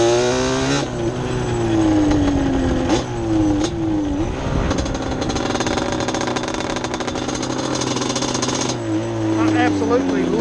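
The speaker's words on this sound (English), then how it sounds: "I absolutely love the way these shears sound at low RPM" A 100 hp Yamaha Banshee ATV engine idles and runs at low RPM, loud and close, with a rough two-stroke burble and a few brief blips of throttle rising and falling throughout.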